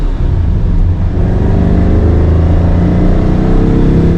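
A loud, steady vintage Porsche sports car engine drones up close, a deep rumbling hum that holds even throughout.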